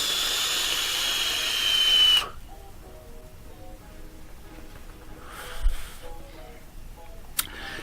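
A Vaporesso Luxe Nano vape on a 70% VG liquid gives a steady airy hiss of vapour for about two seconds, cutting off abruptly, followed by faint handling sounds.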